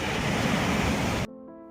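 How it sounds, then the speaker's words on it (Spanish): Large ocean waves break on the surf beach at Totoralillo, Chile, on the Pacific coast, making a loud, continuous roar of surf that cuts off abruptly and gives way to a faint tonal sound. "hay unas olas bastante grandes y hay una escuela de surf"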